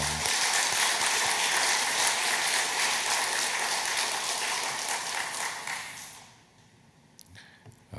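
A church congregation gives a round of applause during a Sunday service, with loud, dense clapping from many hands that fades out toward the end, leaving a quiet room with a few faint sounds.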